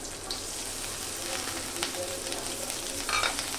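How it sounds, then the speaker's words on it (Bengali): Bengali-style fried rice sizzling and crackling in a hot pan, a steady frying hiss with occasional sharper pops and stirring scrapes, fairly close and without talk. "রায়ানের জন্য একটু ফ্রাইড রাইস করতেছি।"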